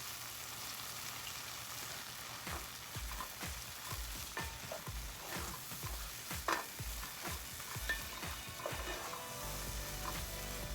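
Curry leaves drop into hot oil in a pan where a masala sauce is cooking for garlic shrimp, setting off a dense, close crackling sizzle with rapid popping bursts that run throughout.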